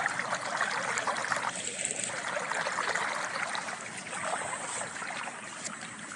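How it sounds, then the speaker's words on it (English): Floodwater rushes steadily through a garden, a continuous broad wash of flowing water at moderate distance with no pauses and no talking. "And this water's still rushing down"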